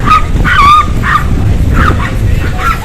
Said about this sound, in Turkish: Küçük küçük köpek ve büyük köpek karşılaşması.